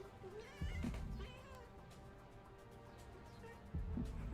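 A cat meows several times, short wavering cries rising and falling over a faint background murmur, with two louder bursts near the start and end.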